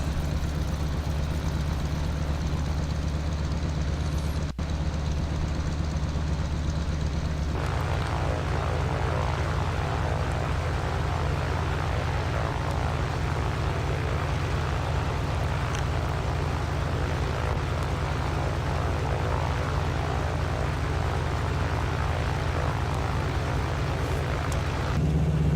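Propeller aircraft taxiing in the P3D flight simulator on an evening in Maine, a steady engine drone and propeller hum running continuously, swelling louder partway through and holding level to the end.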